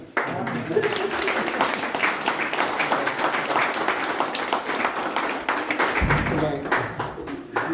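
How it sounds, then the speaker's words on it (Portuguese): Applause from an audience at the opening of an art exhibition, a dense, sustained patter of many hands clapping close by, with a brief low thump partway through. "Uma salva de palmas para eles também"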